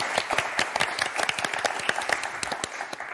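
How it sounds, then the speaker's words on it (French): Steady applause from a television game show studio audience, many hands clapping at once in a dense, continuous patter with no voices standing out. "Bravo Sylvain, bravo Gaël, on vous applaudit."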